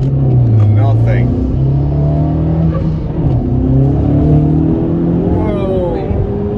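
Tuned 400 bhp Honda Civic Type R FK8 with ECU tune and cat delete accelerating hard, engine note climbing through the gears with shifts, heard from inside the car under excited talking.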